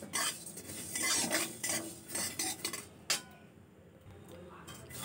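A spoon stirs fenugreek seeds and spices in a pan, dry-roasting them for a sweet-sour mango dish: soft scraping and clinking strokes, close by and fairly quiet, fading toward the end.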